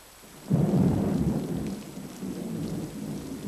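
Thunder rumbles in over steady rain during a storm, a swelling low roll that fades back to the hiss of rainfall, with no voices.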